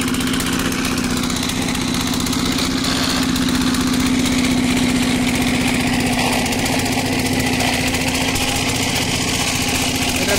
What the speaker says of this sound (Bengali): জেনারেটর চলছে।